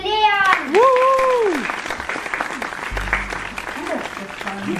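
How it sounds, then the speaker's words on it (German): An audience applauding for a boy named Leon called up at a children's magic show, clapping and cheering under a high whooping voice and talk. "Schönen Applaus für Leon!"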